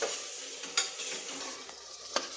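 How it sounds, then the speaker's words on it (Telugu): Tomato added to browned onions frying in a pan for pressure-cooker chicken biryani, giving a soft, steady sizzle broken by a few sharp stirring scrapes, fairly quiet and without voices. "ఉల్లిగడ్డలు బాగా వేగినాక బ్రౌన్ కలర్ వచ్చినాక ఒక టమాటా వేసుకోవాలండి"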